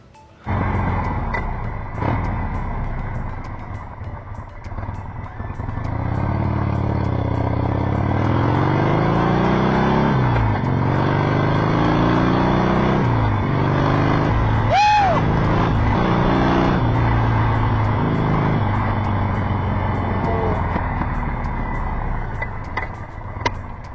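Motorcycle ridden with a dual-camera VSYSTO dash cam mounted, a steady loud engine drone with rising and falling revs as it accelerates and shifts, plus wind rumble throughout; no talking.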